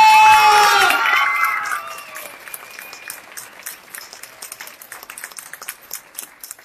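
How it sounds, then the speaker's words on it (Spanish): Crowd applause, probably at a gathering in a church, bursts loudly right away and then thins into scattered clapping and faint voices that keep going steadily to the end. "¡Fuerte el aplauso!"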